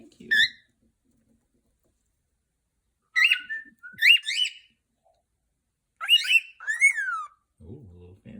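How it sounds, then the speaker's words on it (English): A pet cockatiel gives a few bright, fancy whistles in short separate bursts with quiet gaps between them, close and clear, and a brief low voice comes in at the end. "Oh, a little fancy whistle."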